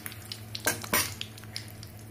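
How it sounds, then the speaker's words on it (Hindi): Mustard seeds, curry leaves, red chilli and a bay leaf hit hot oil for a kadhai mushroom tempering: a quiet sizzle with two sharp spatter bursts and light clinks of a spoon against the pan. "और तड़के वाले ये राई है, राई डालूंगी, कड़ी पत्ता, लाल मिर्च और ये तेज पत्ता,"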